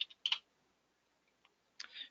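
Sharp computer mouse clicks while navigating a web browser: a few quick, close, quiet clicks in short clusters separated by silence, with no voice.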